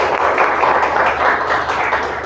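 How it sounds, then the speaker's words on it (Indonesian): Classroom of students applauding a presenting group, a dense, steady patter of many hands clapping at once, loud and close for a couple of seconds. "Kasih tepuk tangan dulu ya untuk kelompok 5."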